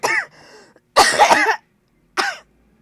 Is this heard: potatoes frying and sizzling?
no